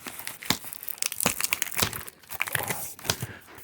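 Cardboard box sealed with tape holding a car audio speaker being torn open: loud, close crinkling, ripping and crunching of tape and cardboard in rapid bursts, with no talking.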